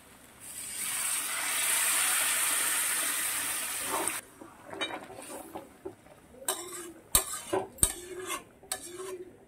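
Hot water pours steadily into a pot of Bengali potato curry for about four seconds, then a spoon stirs and scrapes against the metal pot with several sharp clinks, close by.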